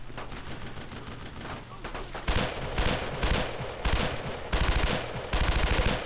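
Bursts of suppressing gunfire from the World War II video game Brothers in Arms: Road to Hill 30, with loud rapid volleys that repeat several times over a steady background of battle noise.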